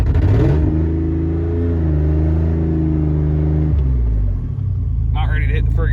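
A 2004 Dodge Dakota in two-wheel drive pulls hard in second gear on ice, its mid-pitched engine droning and rising steadily up close, then easing off briefly before picking back up, with a voice talking over it.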